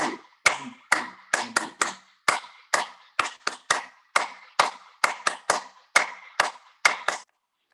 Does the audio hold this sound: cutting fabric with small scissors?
no